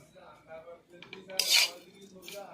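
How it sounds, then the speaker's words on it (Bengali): Semai vermicelli with sugar stirred in a pan, a few quick metallic scrapes and clinks of a spoon against the pan at close range, no talk. "দিয়ে সিমুইর সাথে আমি নাড়াচাড়া করে নিলাম"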